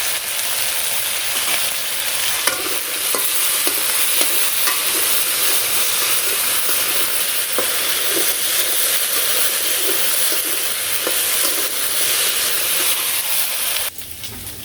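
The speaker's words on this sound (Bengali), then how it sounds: "এই যে মাছগুলো ভেজে নামিয়ে নিলাম, আর এই যে কড়াইতে আলু আর কিছু দিয়ে দিচ্ছি।" Potatoes fry in a wok in a village kitchen with a loud, steady sizzle and hiss that continues without a break. The sizzle drops off sharply near the end, with no voices heard.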